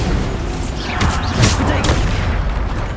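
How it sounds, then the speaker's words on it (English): Bombarda blasting spells go off in Hogwarts Legacy, several loud booming bursts in quick succession over a dense rumbling din of combat. "Bombarda. Bombarda."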